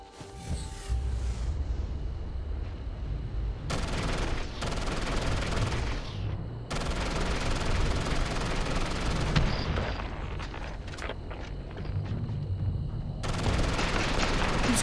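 Sustained gunfire while shooting enemies in Starfield, long dense bursts of automatic fire with brief pauses between them, loud and close, with occasional heavier booms.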